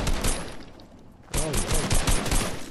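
Fortnite gunfire breaks out after a quieter stretch, a rapid series of close, punchy shots from about halfway through, continuing over a busy game background.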